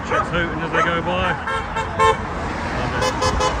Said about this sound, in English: Lots of patriots hooting as they go by.